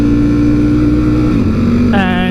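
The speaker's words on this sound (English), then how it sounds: "the SC project on the Hypermotard is loud. It's a loud bike" Ducati Hypermotard motorcycle with a loud SC Project exhaust, a steady, loud, close engine drone that dips in pitch and then jumps up as it revs, filling the whole clip.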